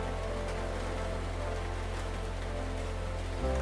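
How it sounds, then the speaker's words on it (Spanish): Steady rain at Lake Pátzcuaro patters continuously on a surface, a soft even hiss with a low hum underneath and no talking. "vean qué maravilloso que esté lloviendo aquí"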